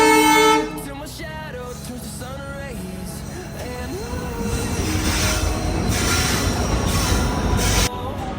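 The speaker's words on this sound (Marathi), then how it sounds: "बघता बघता जो आमची रेलसुद्धा आलेली आहे" A train horn sounds at first, then metallic rumbling and screeching wheels grow steadily louder as the train rolls into the station close by.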